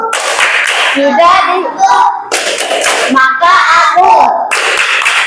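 Rhythmic hand clapping in a primary-school classroom, a teacher leading children in a clap-along game, with bursts of claps alternating with a spoken chant over the clapping.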